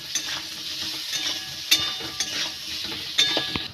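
Potatoes frying with turmeric and salt in a pan, a steady close sizzle with scraping stirs and a few sharp utensil clinks against the pan.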